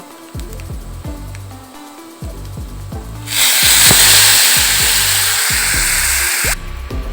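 Lentils go into a pan of fried onions and set off a loud, broad hiss of sizzling that starts suddenly midway and holds for about three seconds before cutting off, over a rhythmic music background.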